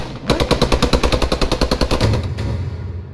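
A long burst of rapid automatic gunfire rattles in steady, evenly spaced shots for about two seconds, loud and close, in a World War II battle in the game Post Scriptum.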